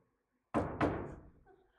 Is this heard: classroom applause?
no